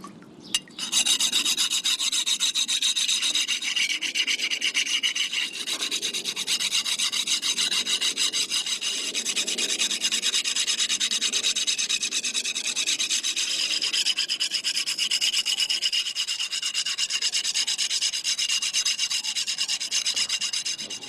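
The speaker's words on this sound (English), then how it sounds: "I'm just going to rub it with this stone and stone some of this black fire scale off" A stone rubs black fire scale off a forged camp knife blade in steady, close, repeated abrasive strokes. The rasping scrape is continuous, with no voices.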